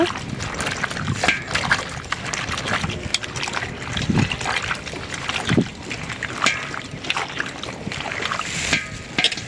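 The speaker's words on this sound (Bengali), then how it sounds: "এখন ভালো করে ধুয়ে নেব, দুইটা ধোয়া দিব।" Food being washed by hand in water, with irregular sloshing, splashing and trickling that rises and falls in bursts close by, no talking.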